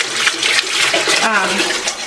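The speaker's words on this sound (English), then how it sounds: "chicken stock or chicken broth, and we're just gonna pour that in and whisk it up" Hot chicken stock poured into a pot, giving a loud, steady, close gush of liquid with a voice speaking over it.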